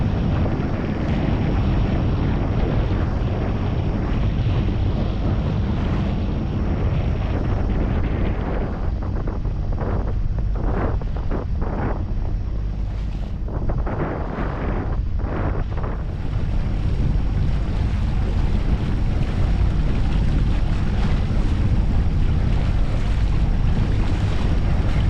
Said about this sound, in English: we're back motor sailing